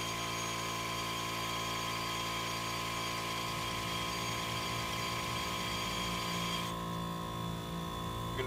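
A steady mechanical whine from a cordless power drill runs continuously and loudly, with the pitch and texture shifting partway through as it bites into material, during wheel stud replacement on a 1998 Suburban.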